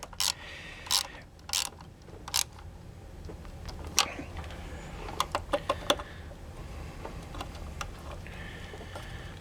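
Ratchet wrench tightening a bracket bolt on a Chevy Blazer engine during a Vortec thermostat job, heard as scattered bursts of clicking and metallic ticks with pauses in between, fairly close and alone.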